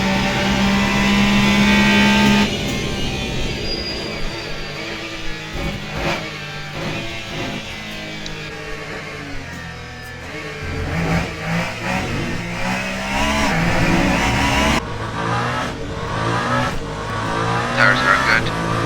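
A Le Mans prototype race car's engine droning and shifting through gears in the Le Mans Ultimate racing sim during a 24-hour race, with a commentator talking steadily over the continuous motor noise.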